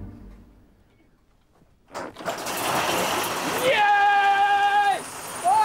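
An old hand-started petrol engine coughs into life after a quiet stretch, then runs loud and rough with a rising mechanical whine. Voices can be heard around it.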